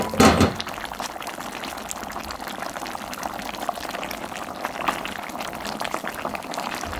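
Spicy braised pork back ribs simmering in a chili-rich broth, with broth spooned over them: a splashy burst at the start, then a continuous soft bubbling and gurgling, close by.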